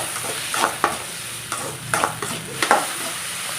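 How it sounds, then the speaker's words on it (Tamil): Onion and tomato sautéing with salt in a pan for an egg and bitter gourd stir-fry, a low steady sizzle broken by several short scraping stirs of a spoon, close and fairly quiet, with no talk. "உப்பு சேர்த்தோம்னா வெங்காயம் தக்காளி சீக்கிரம் வதங்கும்"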